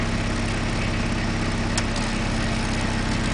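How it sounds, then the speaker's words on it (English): A van's engine idling steadily, fitted with a water-electrolysis cell, giving a constant rumbling drone with a faint hum and a brief click partway through, close and without talk. "I've just turned the engine on"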